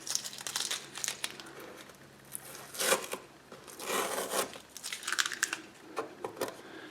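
Packing tape being peeled off and pulled away from a Honda snowblower during an hour meter install, heard as several crinkling, tearing bursts of varying loudness spread unevenly across the span, with no talking.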